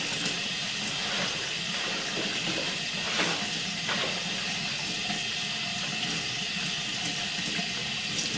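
Tap water runs steadily into a drain, producing a continuous close rushing and splashing with no pauses or talk.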